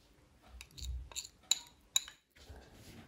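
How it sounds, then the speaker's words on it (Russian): Sourdough starter made with rice flour and water is scraped and transferred from a bowl into a clean glass cup, giving soft utensil scrapes and two sharp glassy clinks up close, with a brief pause before quieter handling noises resume. "Перекладываю в чистый стаканчик."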